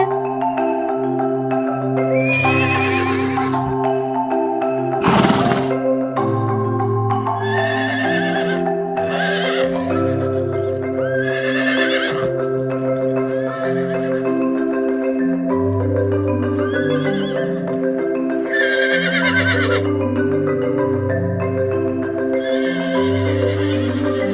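A horse whinnies repeatedly in long, loud, wavering neighs, several calls spread across the clip with short pauses between, alone without any talking.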